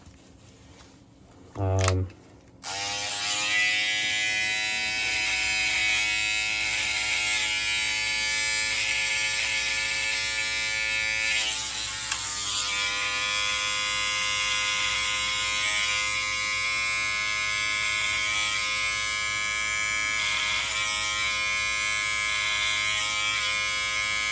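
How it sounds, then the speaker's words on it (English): An old Remington electric trimmer, the small trimmer on the back of the shaver, gives a short buzz, then switches on and runs with a loud, steady, close motor drone that barely changes. "I got an old school Remington, and it's got a little trimmer on the back"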